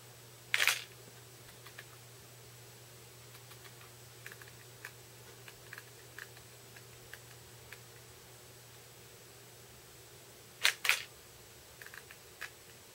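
A Nikon D80 camera fitted with a 50mm f/1.8 lens fires its shutter twice, about ten seconds apart, as sharp close clicks over a low steady hum with faint small ticks in between.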